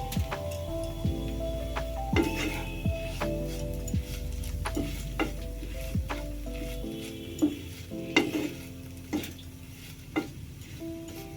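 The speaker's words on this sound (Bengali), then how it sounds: "একটু হালকা করে ফ্রাই করে নেব" Vegetable filling for chicken patties lightly fries in a pan, a continuous sizzle broken by repeated spatula scrapes and knocks against the pan, some sharp and close, spread across the whole stretch.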